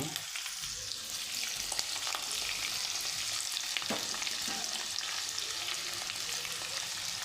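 Curry leaves and finely chopped onion fry in hot oil with mustard seeds for an aloo curry. A dense, steady sizzle runs throughout, with faint stirring scrapes and an occasional crackle.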